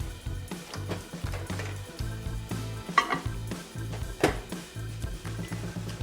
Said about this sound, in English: you have to keep an eye on it and to stir constantly so your chocolate